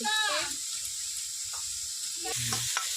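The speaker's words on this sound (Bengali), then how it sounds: "ওর জন্য নড়া ভাজছি" Pea shoot stalks fry in a pan with a steady bright sizzle throughout, broken by short scraping stirs, while someone speaks over the cooking.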